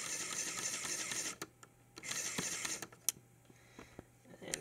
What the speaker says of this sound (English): Switch in here that controls the pneumatic compressor.